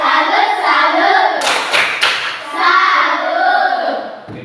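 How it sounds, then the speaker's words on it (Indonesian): Children in an Indonesian classroom clap a rhythmic 'tepuk salut' cheer, a short burst of several sharp claps in time, following and followed by a teacher's talk. "Mari kita tepuk salut buat Christine."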